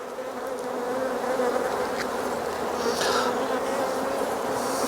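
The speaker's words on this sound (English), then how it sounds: "So we just shake the bees off a hand and then into the last frame." Honey bees hum loudly around a hive frame during a hive inspection, a thick, steady buzz that fills the whole stretch with no talking over it.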